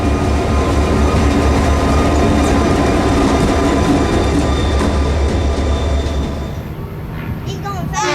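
A Florida East Coast Railway train rolls by up close with a loud, steady roar of wheels and rumbling railcars, easing slightly near the end as faint squeals and clanks emerge.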